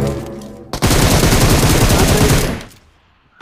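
A sustained, loud automatic gunfire burst from the game BGMI lasting about two seconds, close and dense, then fading away.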